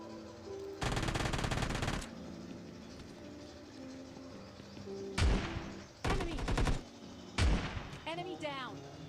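Gunfire in the mobile shooter PUBG Mobile Lite comes in rapid automatic bursts: one long volley, then several shorter loud clusters of shots with quieter game ambience between them.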